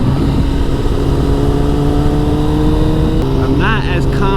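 Motorcycle engine running steadily on a dyno, a loud, continuous droning tone with strong harmonics holding at a fairly constant pitch, and a voice talking briefly over it near the end.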